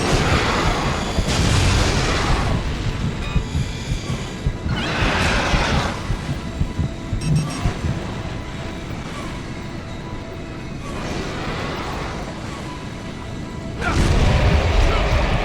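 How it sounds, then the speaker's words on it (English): Heavy weapon fire and booming explosions while battling the giant Kraken in the shooter Resistance 2, loud rumbling blasts in repeated waves with constant crashing impacts, ending on a strong burst. "you do want to keep shooting the Kraken periodically throughout this entire fight"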